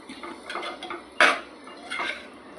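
A spoon scrapes and clinks against a pan while stirring raw mango prawn masala, with a few soft scraping strokes and one sharper metallic knock near the middle, close and fairly quiet.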